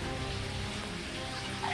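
Heavy monsoon rain in Mumbai's suburbs pours down as a dense, unbroken hiss of drops on surfaces, loud and steady throughout with no talking.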